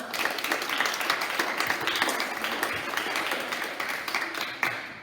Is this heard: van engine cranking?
no